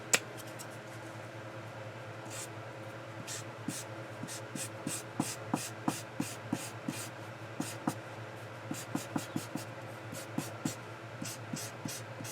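Alcohol markers are stroked across cardstock marker paper, giving a quiet series of soft scratchy strokes and light taps at an uneven pace over a faint steady hum.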